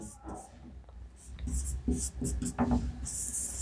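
Chalk or marker scratching across a board during a classroom lesson, short strokes in uneven bursts with pauses between, close by, under soft speech from a teacher.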